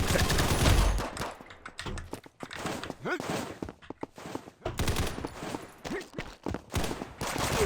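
Bursts of rapid automatic gunfire and single shots in the shooter game Combat Master come in irregular clusters with short gaps, mixed with in-game footsteps and impacts, fairly close and loud.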